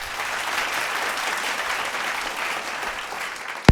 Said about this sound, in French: Un tonnerre d'applaudissements pour ce moment.